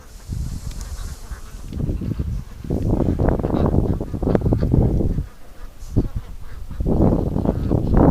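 Ducks at a lake give off a steady run of low, raspy quacks and chatter from nearby, coming in dense clusters with short pauses between.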